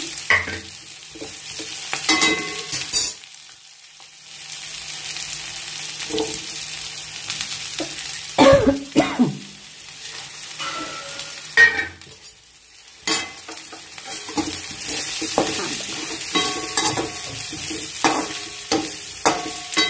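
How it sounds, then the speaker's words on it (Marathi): Roasted peanut powder is sautéed into a stuffed brinjal masala gravy, with a soft sizzle under repeated scraping stirs and a few sharp clinks of the spoon against the pan, and no voices. "असा चांगला परतून घ्यायचा।"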